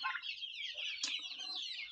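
Chickens clucking in a chicken tractor, several close birds giving repeated short clucks and calls with a steady backdrop of farm-flock chatter.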